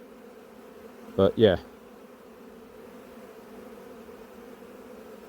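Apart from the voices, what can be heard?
honeybees buzzing after being shaken out of a hive box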